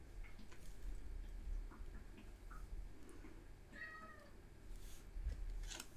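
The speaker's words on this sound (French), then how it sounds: "j'ai mon petit chat qui veut rentrer" A pet cat meows outside a door, wanting to come in, a single faint short meow around the middle against quiet room ambience with a soft clock-like ticking.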